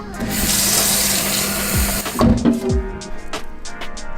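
Water pours steadily into a protein shaker bottle in a gym setting, a loud rushing fill that cuts off midway and gives way to a few clunks and handling knocks.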